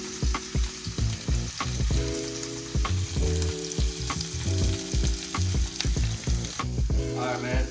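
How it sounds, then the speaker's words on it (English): A big steak from Whole Foods sears in a hot pan, giving a loud, steady sizzle and crackle with rhythmic clatter and scraping of a utensil throughout; no one talks. "That's what you want to hear, man, when you put the steak down. A nice sizzling sound."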